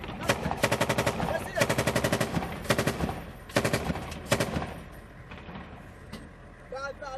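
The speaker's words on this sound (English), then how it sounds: "And a lot of gunfire." Bursts of rapid machine gun fire in combat on the outskirts of Mosul, Iraq, several long rattling volleys in a row, loud and close, with rumbling and a faint voice near the end.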